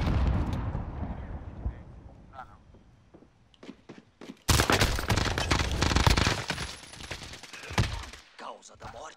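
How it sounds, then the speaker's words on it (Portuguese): A grenade blast and bursts of gunfire in a first-person shooter video game: a sudden loud explosive roar erupts midway, with scattered shots and rumble before and after, under tense players' voices speaking throughout. "Granada lançada!"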